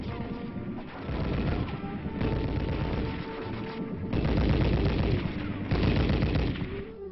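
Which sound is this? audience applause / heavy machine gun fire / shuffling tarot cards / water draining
heavy machine gun fire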